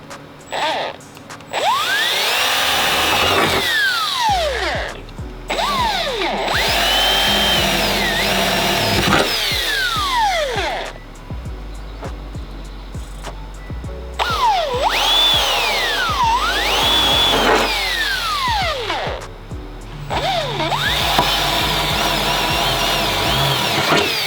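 A power drill whines up and down repeatedly while drilling holes during a snorkel installation on a Toyota Tacoma, several separate bursts with short pauses between them, close and loud.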